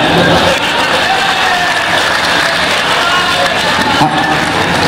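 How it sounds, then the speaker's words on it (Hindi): Audience at a Hindi poetry gathering clapping, a dense, loud, continuous wash of applause mixed with crowd noise and voices throughout. "ताली बजाना है।"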